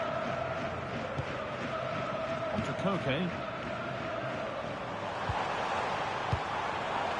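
Stadium crowd in the FC 26 football video game during a Real Madrid match on PS4, a steady, dense roar filling the scene while a commentator talks over it.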